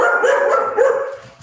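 A German Shepherd gives drawn-out, whining yelps and barks that run together without a break, close by and fairly loud, with no talking over them.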